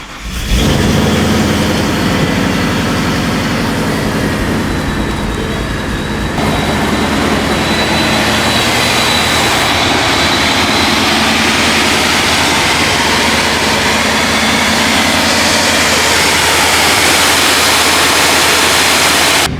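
A 1000hp Ford Mustang V8 fires on a cold start and holds a loud, deep, steady idle close by for nearly twenty seconds with a slight rise in tone partway, no talk.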